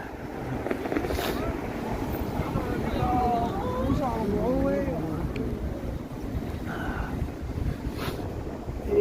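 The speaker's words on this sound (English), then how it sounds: "the wind, it sucks. The wind sucks" Cold wind roars steadily on a Toronto street during an extreme cold warning, buffeting the microphone with a constant rumbling whoosh, while a voice talks faintly underneath.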